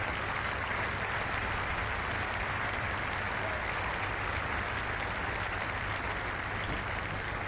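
Golf gallery at The Open applauding, a dense, sustained wash of clapping from a large crowd at some distance, steady and unbroken throughout.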